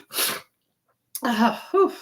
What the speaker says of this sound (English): I'm sorry, y'all, with all the sniffling and sneezing.